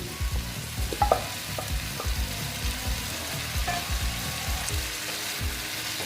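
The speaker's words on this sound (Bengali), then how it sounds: "দিয়ে আমি এটা কষিয়ে নিচ্ছি দেখো বন্ধুরা আমি ভালো মতন এটা কষিয়ে নেব" Jackfruit stir-fries in a spiced masala, a steady sizzle with intermittent scraping and clinking strokes of a stirring spoon, close by.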